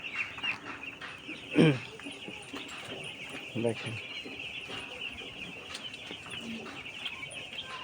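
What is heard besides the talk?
five-day-old chickens on third floor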